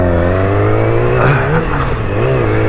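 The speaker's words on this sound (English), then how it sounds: "So this is a high revving bike" A high-pitched 600cc sport motorcycle engine revs loudly and continuously up close, its whine rising and falling slightly as the throttle is held and blipped.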